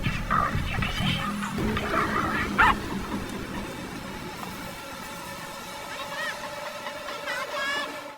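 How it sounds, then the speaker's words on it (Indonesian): A dog barks and yips sharply near the start in a video game, over a busy layer of game music and ambient noise that carries on after the barking fades. "mengabaikan gonggongan anjingnya"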